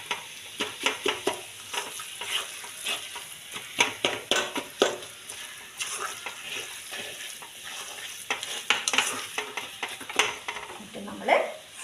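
Chicken curry is stirred in a pan with coriander powder and chicken masala, giving repeated scraping and clinking spoon strokes over a light sizzle. The sound is close and moderately loud, and there is no talking.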